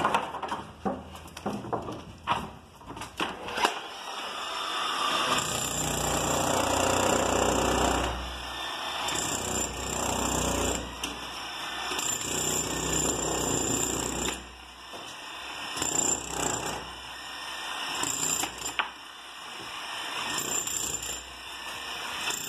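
Hammer blows strike a reinforced concrete beam being broken apart during demolition, a series of irregular sharp impacts with heavy rumbling between bursts, close and loud, with no talk.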